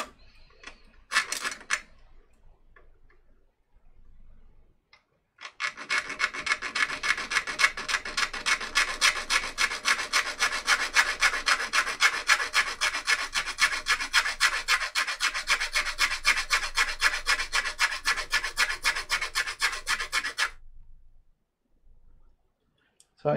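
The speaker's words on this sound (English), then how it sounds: "make sure that all of the outside sheath is rubbed off" Wire's outer sheath being rubbed off by hand for a hand-wired keyboard build, a rapid rhythmic rasping scrub with dense repeated strokes lasting about fifteen seconds, close and fairly loud, after a few faint handling clicks.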